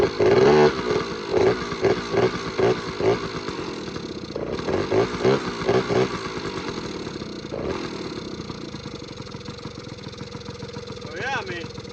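Kawasaki KD80 two-stroke quad engine firing up and running, rhythmic bursts of revving that settle into an uneven, buzzy idle, close by with people talking over it.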